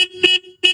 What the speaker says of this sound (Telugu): హారన్ కొడితే